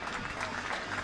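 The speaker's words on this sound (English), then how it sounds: "You hear the applause for Lewis Goldsworthy" Cricket crowd at a T20 Vitality Blast match between Leicestershire Foxes and Nottingham Outlaws applauding a departing batsman, a steady, moderately distant spatter of clapping lasting about a second under faint background murmur.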